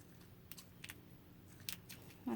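Scissors snipping through fabric banner material for a fall decoration craft, a few quiet, sharp, separate cuts against a soft, hushed room background.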